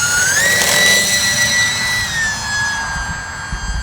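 An e-Flite UMX Cirrus SR22T electric RC model plane takes off, its motor whine rising sharply in pitch and holding steady, loud and close at first, then gradually fading as it climbs away. No one speaks.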